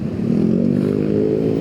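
Daily-ridden motorcycle cruising around Bogor, a loud, close, steady engine drone with rhythmic exhaust pulsing and no voices.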